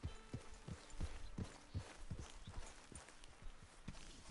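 Horse hooves clip-clop at a steady walking pace in Red Dead Redemption 2, about a dozen distinct, fairly close hoofbeats in an even rhythm over a quiet outdoor background.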